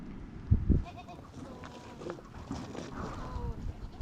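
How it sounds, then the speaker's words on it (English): Goats bleat and shuffle in a pen during milking, with a couple of louder thumps early on and scattered animal calls over quiet background noise. "begins with milking the goats"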